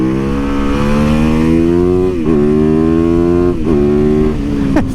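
A 2019 Yamaha YZ450FX supermoto's 450 engine revs loudly and steadily up close, its pitch climbing in a sustained buzzing drone with a few brief dips between pulls.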